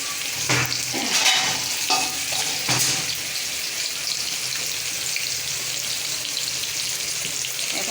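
Fish heads sautéing in a pan for a cauliflower curry, a steady broadband sizzle with a few sharp stirring scrapes and clinks near the start, continuing evenly throughout with no talking.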